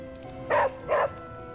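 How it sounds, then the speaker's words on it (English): A dog in the video game Marvel's Midnight Suns gives two short, loud barks about half a second apart, over a quiet ambient game soundscape. "Hey, Charlie Warley puppy face"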